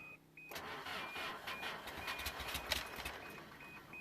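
Toyota 2.2L diesel engine cranking briefly and catching, then running with a rough rattling idle, close and fairly quiet, with no talk over it.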